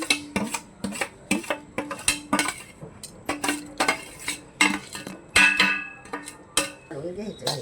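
A wooden or metal spoon stirs a dinkache ladoo mixture of ground edible gum, makhana, nutmeg and jaggery in a pan, giving a rhythmic run of sharp scraping clinks against the metal at close range.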